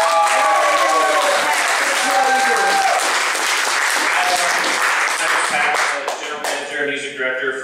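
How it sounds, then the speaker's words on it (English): A large crowd at a live band performance applauds loudly and steadily, the clapping thinning toward the end while cheers and voices rise through it. "So big round of applause for you guys."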